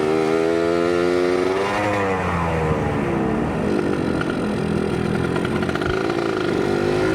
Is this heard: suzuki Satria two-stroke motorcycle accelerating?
yes